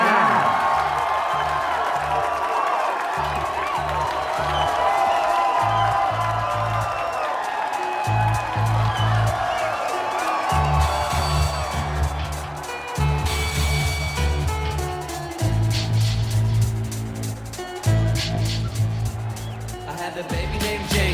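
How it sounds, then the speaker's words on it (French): Audience applauding and cheering as Super Dan is welcomed on stage, a steady roar of clapping and whoops carried over a pounding rhythmic musical beat. "Applaudissez très fort, Super Dan!"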